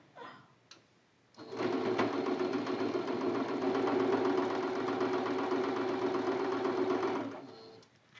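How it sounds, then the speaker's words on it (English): A sewing machine stitches quilt block fabric continuously for about six seconds, a steady whirring, rapid mechanical stitching close by, starting and stopping abruptly after a brief click. "We're sewing the third one."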